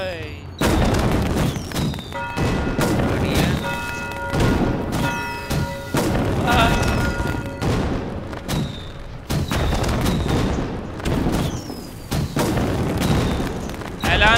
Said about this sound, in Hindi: मजे भाई पटाखे फोड़ो